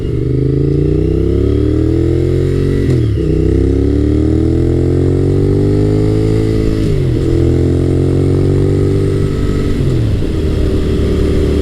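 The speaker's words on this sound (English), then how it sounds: "This bike has the dual Two Brothers exhaust on it, so it sounds awesome." A Honda VTR1000F SuperHawk motorcycle engine with a deep dual Two Brothers exhaust rumbles steadily and loudly, rising through the revs with brief dips at gear changes about every four seconds.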